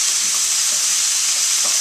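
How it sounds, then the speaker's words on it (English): Courgette fries on high heat in a pan, a loud, steady, bright sizzle with faint scrapes from stirring underneath. "After 2 minutes, you give it a good stir"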